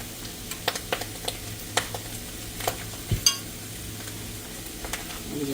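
A jar of home-canned tomato juice is stirred into macaroni in a pan, with steady sizzling under repeated scraping clicks of a utensil against the pan and a few louder knocks, close by and without talking.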